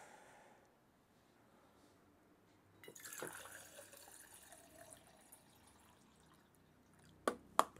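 A plastic water bottle is twisted open and water is poured from it indoors, giving a soft crackle followed by a gentle, faint pour that ends in a couple of sharp clicks. No one talks.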